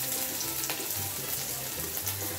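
Chopped onion sizzles and fries in hot oil in a pan, a steady close crackling hiss with faint stirring and no talking.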